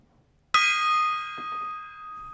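A small bell is struck once, giving a bright, clear ding that rings on and slowly decays, with a few faint soft knocks afterward in an otherwise quiet room.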